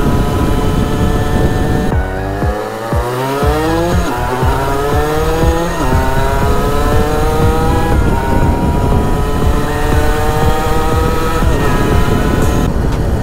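A Gilera SMT motorcycle with a tuned small engine and aftermarket exhaust pipe screams at full throttle, its loud, continuous high-pitched engine note climbing and shifting in pitch through repeated rises.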